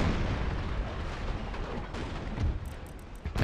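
Naval cannon fire in a Total War Empire strategy game battle, shots landing in the water at long range: a dense, rumbling barrage of booming blasts rolling over one another, loud and continuous with no clear gaps.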